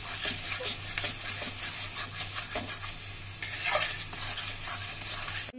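Spice mixture sautéing in a pan for kasha: a steady sizzle and frying hiss with scraping and stirring strokes of a utensil against the pan, close and continuous.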